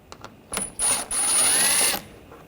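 Ratchet fitted with a T20 socket backing out bolts while removing the headlight on a 2013-2022 Buick Encore 1.4L, a few short clicks followed by a longer buzzing whir, close up with no talking.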